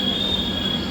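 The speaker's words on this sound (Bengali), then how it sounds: "ওইদিকে আবার একটা ডাউনের ট্রেন দেখা যাচ্ছে" A down train passing through Belgharia station makes a loud, steady rolling rumble with a sustained high wheel squeal throughout the brief moment.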